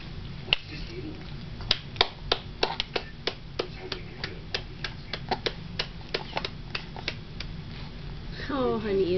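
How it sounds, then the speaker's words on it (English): Small hands clap in an irregular run of about two dozen sharp, light claps, near and fairly quiet, with a voice rising at the end. "Can you clap your hands? Mama, can you clap your hands for him?"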